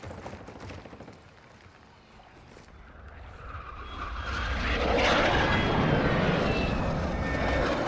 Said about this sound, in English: Hostile UAV active.